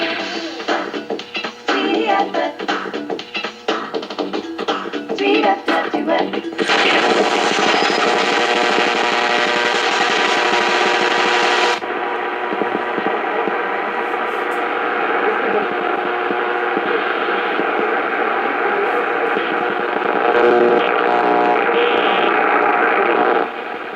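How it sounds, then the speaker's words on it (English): Dense, steady shortwave radio reception on a Sony ICF-2010 portable receiver, noisy and broadband, with a shift in tone partway through and continuous static beneath the signal. "This is a strong signal."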